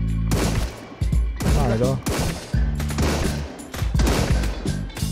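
Sniper rifle shots at marauders holding an outpost in the survival game SunkenLand, several loud sharp cracks with ringing tails spaced about a second apart, and someone talks briefly between them.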